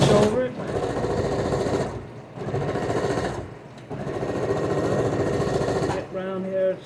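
Sewing machine stitching over pinned fabric on a San Francisco 49ers apron, running in steady buzzing bursts with short pauses between seams, close and fairly loud.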